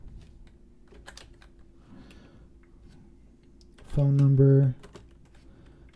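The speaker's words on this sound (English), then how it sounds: "And then I can start typing," Light keyboard typing clicks run quietly through, with a brief spoken phrase partway and a short tonal beep-like burst near the end.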